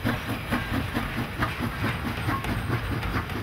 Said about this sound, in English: another job for the steam engine in this facility was moving piles of molten slag through a short tunnel to the tip